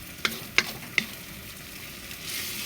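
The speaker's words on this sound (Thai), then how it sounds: "ตอนนี้กำลัง คั่วไข่ครับ ใส่กับหมูบด" Egg and ground pork stir-fried in a pan for a sponge gourd dish, with three sharp spatula clacks in the first second over a faint steady sizzle, then a soft rising fry.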